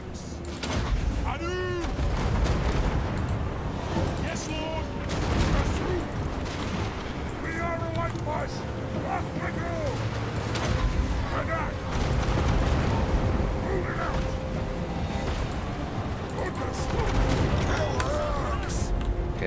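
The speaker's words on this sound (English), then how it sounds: "let's just go ahead and drop some bombs on him" Bombs drop and burst across a Total War: Warhammer dwarf multiplayer battle, a run of booming blasts and crackling impacts over a dense rumble of combat, with someone narrating over it.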